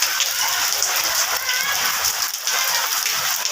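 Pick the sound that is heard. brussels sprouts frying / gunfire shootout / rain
rain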